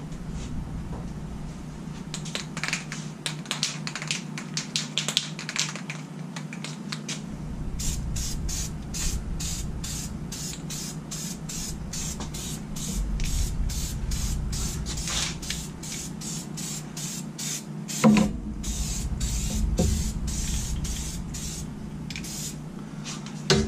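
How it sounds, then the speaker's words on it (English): A rattle can sprays paint onto rusty Jeep TJ suspension parts. Rapid pulsed hissing bursts run close by, with a brief clatter near the middle. "I want to rattle can some of this rust."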